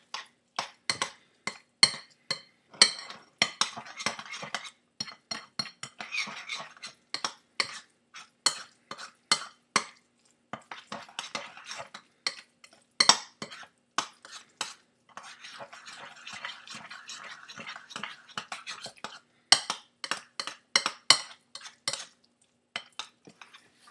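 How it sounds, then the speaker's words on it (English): A spoon scrapes and clinks against a bowl while a hardened mixture is worked together, in a long run of sharp, irregular clatters and scrapes, close and fairly quiet, with no talking. "Just going to give it a really, really, really good mix together and make sure that everything is evenly distributed throughout the mixture."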